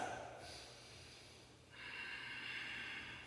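Deep breathing during a yoga routine, with a soft airy inhale and then a longer, stronger exhale or inhale rushing steadily through the nose and mouth, close and fairly quiet, with no talking.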